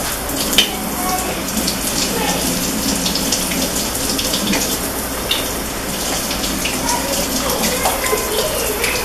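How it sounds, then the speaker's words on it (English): Tap water pours into a container in a home kitchen, a steady close hiss and splash with scattered small knocks and faint background voices. "fill this up with water for me"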